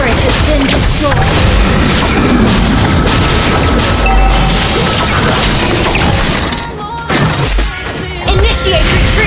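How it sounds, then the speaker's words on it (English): A loud game battle in Mobile Legends with booming explosions and crashing impacts as a turret is destroyed, layered with dense effects and a voice announcer. "Our turret has been destroyed!"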